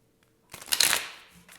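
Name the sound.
tarot cards being shuffled and cut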